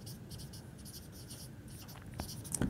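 Writing on paper or a board during a maths lesson on sets, a steady close scratching of strokes in quick rhythmic bursts, slightly louder taps near the end, with no talk.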